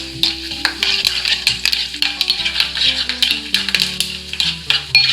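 Chana dal, mustard seeds and cumin crackle in hot oil for a chicken buttermilk curry, with a spoon scraping and stirring the pan. Each scrape rings out sharply over the constant sizzle, close and loud.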